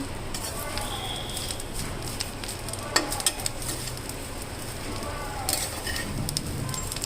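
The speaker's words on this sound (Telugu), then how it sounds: "చూడండి కాస్త వేగింది ఇంకా కాస్త వేగాలి" Curry leaves frying and being stirred in a pan while making a spice powder, giving a steady soft sizzle with occasional scraping and stirring clicks throughout.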